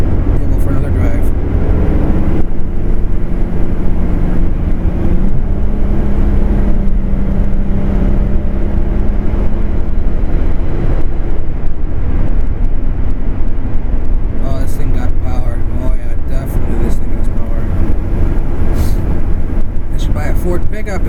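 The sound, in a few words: Ford pickup truck driving on road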